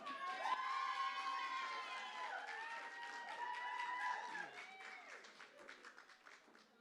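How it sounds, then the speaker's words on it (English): A pub crowd at The Bedford applauds and cheers as host Tony Moore is welcomed to the stage, with whoops and shouts riding over steady clapping that gradually eases off. "give a massive round of applause and welcome to the stage our good friend"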